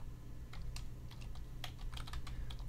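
Close, quick keystrokes on a computer keyboard as a command is entered, a dozen or so crisp clicks in uneven bursts over a low electrical hum.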